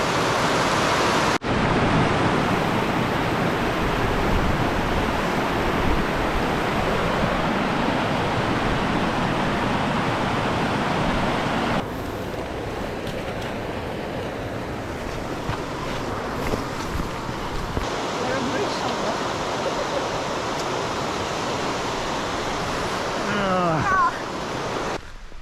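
River water rushing at a river crossing in Glen Feshie, a loud continuous roar mixed with wind buffeting the microphone, steady throughout with a slight drop in level midway.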